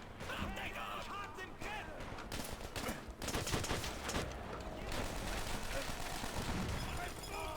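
Dense, continuous battlefield gunfire from the Call of Duty World at War video game, with overlapping rifle and machine-gun bursts, explosions and someone talking over the din throughout.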